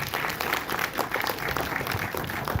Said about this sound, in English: Please give round of applause to Pak Sandip.